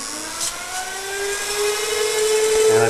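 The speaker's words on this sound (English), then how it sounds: "I think you can hear the motor." A 3 HP DC motor under PWM MOSFET control whirs steadily, a rising whine with a thin high tone that builds in loudness over a few seconds, no talk.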